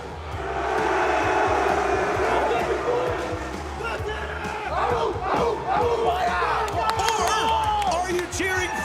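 A large arena crowd at a Rainbow Six esports major quarterfinal roars and cheers in loud swelling waves, with shouts and chants rising and falling, while an announcer's amplified voice talks over it.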